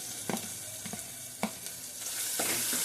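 Onions fry with tomato and coriander in a pan for chicken masala curry, giving a soft, steady sizzle with a few scraping stirs nearby.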